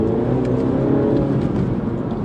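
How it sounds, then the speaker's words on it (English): A 2016 Mini John Cooper Works F56 hatch with its 2-litre engine revs continuously from inside the car. The note is throaty and steady and fills the whole clip, and no one talks over it. "different sound to the JCWs I've driven before, quite kind of throaty"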